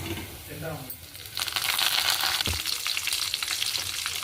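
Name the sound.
tempering frying in oil as curry leaves are added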